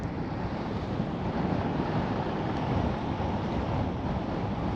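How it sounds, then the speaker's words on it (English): Strong wind buffets the microphone on shallow water during a fishing outing, a steady loud rushing roar throughout with no talking. "that wind is probably really rough right now"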